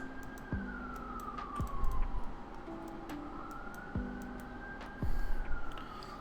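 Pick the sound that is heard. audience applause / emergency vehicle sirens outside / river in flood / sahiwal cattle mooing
emergency vehicle sirens outside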